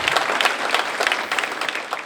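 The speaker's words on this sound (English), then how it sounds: "let's give him a round of applause" Dense, steady applause from the audience at a raceway hall of fame induction ceremony fills the whole short moment, close and fairly loud.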